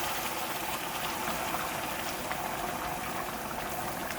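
Saffron liquid poured little by little into risotto rice in a pan, a steady close bubbling and simmering hiss that holds evenly from start to finish with no voices.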